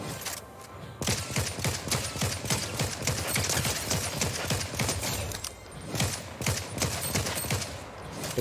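Rapid bursts of gunfire from a Fortnite match crackle almost nonstop for about eight seconds, dense and fairly loud, with no talk over them.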